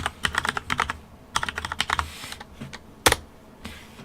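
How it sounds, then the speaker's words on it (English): Rapid bursts of keystrokes on a computer keyboard, typed in short irregular runs with brief pauses and one sharper final tap, close and clear with no talking. "So let's try typing in computing tutor now."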